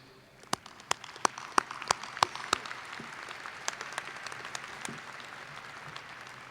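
Scattered clapping at a university commencement as alumni board members stand, with a few distinct sharp claps early over a thinner spread of applause that continues steadily throughout.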